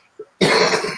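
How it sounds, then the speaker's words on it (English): A single sharp cough bursts out at close range after a brief quiet throat sound, loud and raspy, with no talking around it. "Sorry. Cough."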